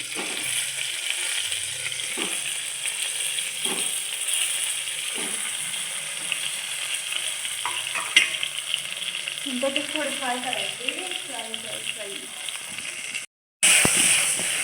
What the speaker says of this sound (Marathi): ते हळद आणि जिरे तसे गरम झाल्यावर त्याच्यामध्ये जे आपण वांगे भरले ते वांगे त्याच्यामध्ये टाकायचे